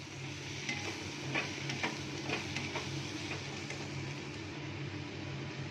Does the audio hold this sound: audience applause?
no